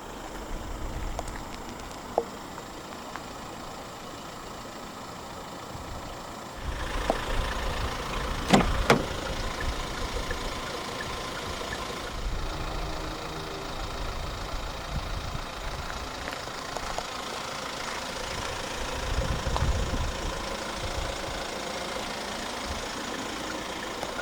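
A 2023 Hyundai Staria 2.2 CRDi diesel van settles into a steady idle, with a low continuous rumble and a few brief clicks and knocks along the way.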